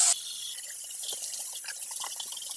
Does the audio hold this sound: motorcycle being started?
no